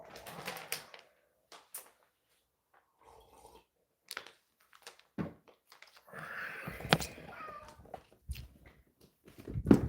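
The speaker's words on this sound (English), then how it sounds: "What a horrible cat." A cat meows and yowls in scattered bursts across a quiet indoor space, with clicks and soft knocking sounds in between the calls.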